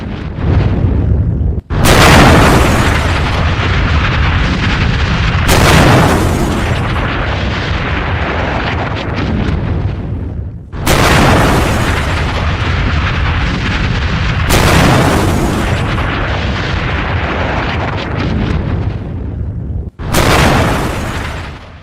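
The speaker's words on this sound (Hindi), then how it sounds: "ये जो ब्लास्ट हुआ, सुनिए।" Explosions from US air strikes in Venezuela, including the capital Caracas: a series of sudden, very loud booms, each followed by several seconds of rolling, rumbling roar that decays slowly, heard from a distance.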